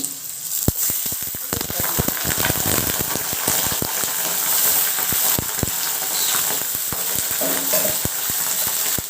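Chopped onions fry in a pan until reddish brown for a chicken curry, giving a dense, close, steady sizzle with frequent clicks and scrapes of stirring throughout.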